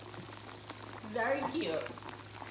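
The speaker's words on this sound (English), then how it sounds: "So he's frying fish over here" Whiting fish fries in a pan with a quiet, steady sizzle, while a person speaks briefly over it.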